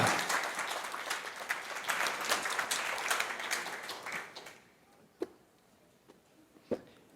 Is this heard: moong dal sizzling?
no